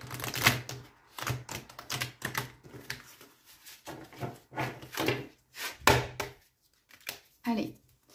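Oracle cards being shuffled and drawn on a table, a series of soft irregular taps, flicks and slaps of card stock, close and fairly quiet, with someone speaking intermittently between them.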